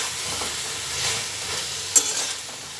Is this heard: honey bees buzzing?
no